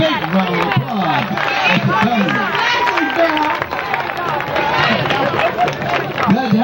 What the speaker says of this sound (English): Let's give Angel a big round of applause